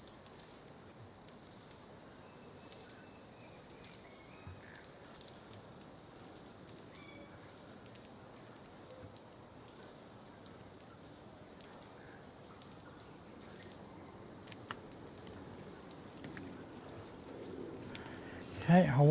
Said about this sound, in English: A few more cicadas clicking away